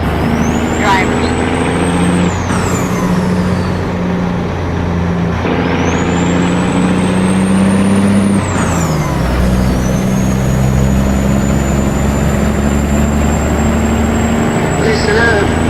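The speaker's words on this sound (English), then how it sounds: "can you hear the diesel rumble?" Diesel truck engine in American Truck Simulator, a steady low rumble running throughout with rising and falling whines and revving shifts, loud and close, with gear changes breaking the drone.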